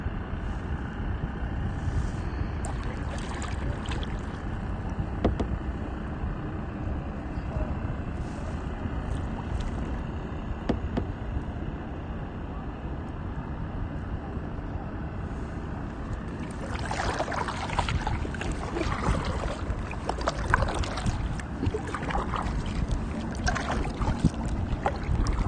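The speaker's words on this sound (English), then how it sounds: "this is really nice for me to be able to come kayak" Kayak paddling on calm water at sunset near Baltimore: soft steady water and wind noise, with gentle paddle splashes and drips growing livelier in the second half, no voices.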